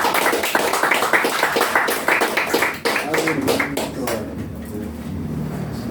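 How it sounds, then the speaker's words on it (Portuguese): A church congregation applauds in praise during a worship service, dense clapping that fades after a few seconds as a voice speaks over and after it. "que as palmas louvem o Senhor"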